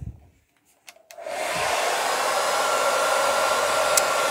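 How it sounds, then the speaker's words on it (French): A handheld hair dryer, used to dry a stained stone, clicks on after a few faint handling knocks, then blows in a loud, steady close-up whoosh with a constant motor whine that continues to the end. "Donc je prends de nouveau le sèche-cheveux"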